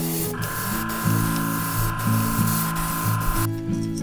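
Airbrush spraying a white base coat onto a taped-off crappie crankbait lure, a steady close hiss broken into repeated short bursts over a constant compressor hum, no voices.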